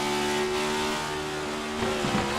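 A race car in the iRacing video game at Sonoma, its engine droning loud and steady before a quick gear shift breaks the tone near the end.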